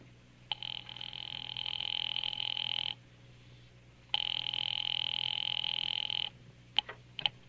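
An old-style telephone rings twice in long buzzing bursts, then a couple of brief clicks follow, with no one talking.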